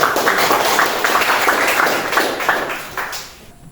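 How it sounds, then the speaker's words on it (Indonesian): Students clap together in a classroom after a Hindu religion lesson, a lively burst of many hands that thins and fades out toward the end. "kasih tepuk tangan dulu"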